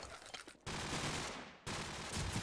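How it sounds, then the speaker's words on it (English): Gunfire in a Call of Duty 4 promod match on the Crossfire map, with dense bursts of shots in a sustained volley that drops out briefly twice and resumes, loud and close throughout. "Shots are being fired"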